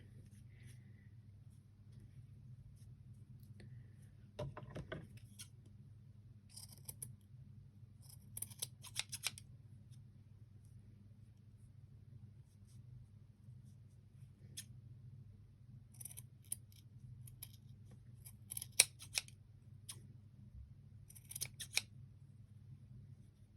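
Scissors snipping through yarn to trim a pompon made on a WRMK tassel loom, a series of quiet, sharp close cuts spread across the clip over a steady low hum.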